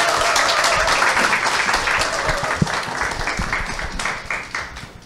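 An audience at a Sunday business seminar applauds to welcome the speaker, with dense continuous clapping that fills the room and slowly thins toward the end, with a voice faintly under it.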